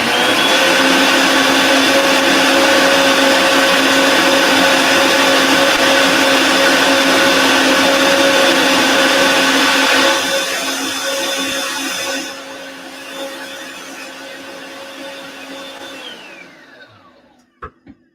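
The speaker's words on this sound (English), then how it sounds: "turn the blender on." A countertop blender whirs loudly, blending a drink containing apple, with a steady high-pitched motor whine for about ten seconds before it drops in pitch and winds down to silence, ending with a couple of small clicks.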